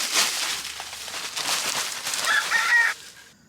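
Broody hens in a coop give low throaty clucks and murmurs, close and fairly steady, with a few sharper squawks near the end.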